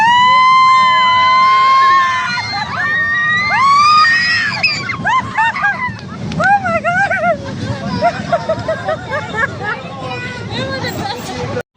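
Riders on a roller coaster at Hill Park, Karachi, scream loudly and continuously in shrill, overlapping wails that rise and fall, joined by excited crowd noise before a sudden cutoff at the end.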